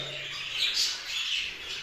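Show budgerigars squawk and chatter in a cage, with several overlapping close, harsh calls over a couple of seconds.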